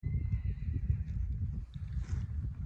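A horse at a three-day eventing championship at Cirencester Park gives a faint high whinny over a steady low rumble of hoof and ground noise, close by and continuous.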